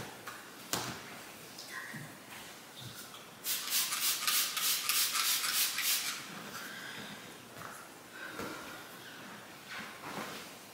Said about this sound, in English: Just need to wipe down the surfaces in the living room.